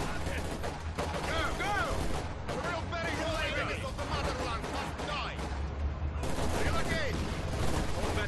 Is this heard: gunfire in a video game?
yes